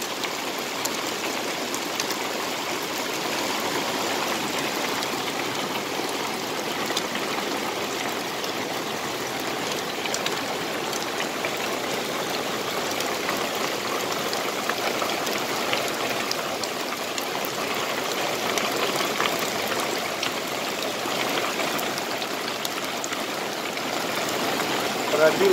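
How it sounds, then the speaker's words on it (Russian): Steady patter of hail striking a roof during a storm over the Volga in Samara, a dense continuous rattle that stays fairly even, with faint voices underneath. "опять падают градины"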